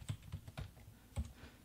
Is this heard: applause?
no